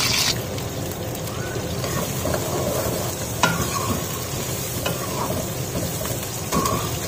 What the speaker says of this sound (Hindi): प्याज को फ्राई कर लेंगे।